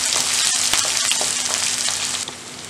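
Small onions sautéing in a pan for kallumakkaya thoran give a close, steady frying sizzle with a few sharp stirring clicks and no talking.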